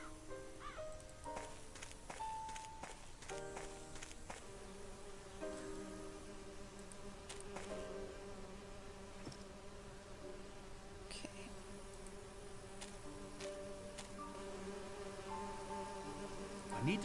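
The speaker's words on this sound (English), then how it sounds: "I need to subdue the bees first." Steady, dense buzzing of a bee swarm around an artificial hive in the mystery video game Agatha Christie And Then There Were None, continuous and moderately loud with faint ambient tones, no talk.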